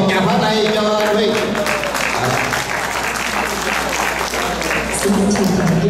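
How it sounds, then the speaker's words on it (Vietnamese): A congregation at a Catholic community gathering claps steadily for a man named Huy, with voices murmuring beneath the loud, continuous applause. "xin một tràng pháo tay cho anh Huy"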